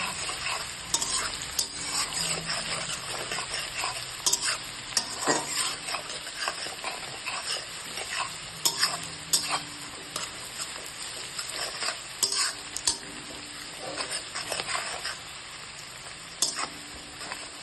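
Chopped onions sizzle steadily in oil in a wok while a spatula stirs and scrapes them, with repeated clicks and scrapes over a constant frying hiss and no voices.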